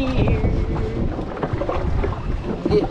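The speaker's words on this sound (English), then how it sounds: "Windy out here." Strong wind buffets the microphone out on open water beside a canoe during open-water ice fishing, a loud steady roar with gusty rumble throughout.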